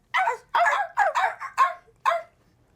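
A person imitates a dog barking, giving about six short, loud bark-like yelps in a quick irregular series, each one near and clear, followed by silence.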